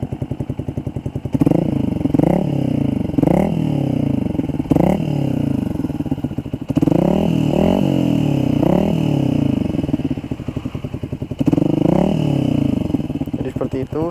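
Yamaha Xabre with a Tridente F22 carbon exhaust in street legal mode, a steady near engine drone punctuated by repeated throttle blips and revs, with someone speaking over it at times.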